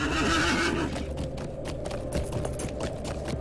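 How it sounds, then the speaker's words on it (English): A rented horse in the video game Lord of the Rings Online gives a loud, close whinny at the start, followed by a steady run of clip-clopping hoofbeats. "Now these are the horses that we rent."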